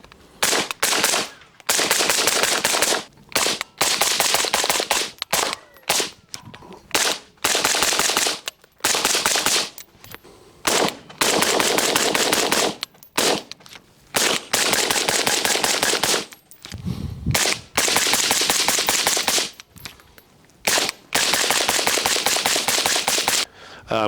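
A 5.56 rifle fires through seven different suppressors in turn, heard from the shooter's position as a long series of loud, sharp shots, some single and some in quick strings, with brief gaps between groups.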